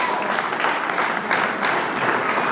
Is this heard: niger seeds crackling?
no